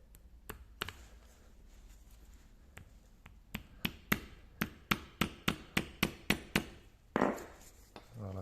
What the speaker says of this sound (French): à l'aide de mon marteau, je viens écraser la tête ici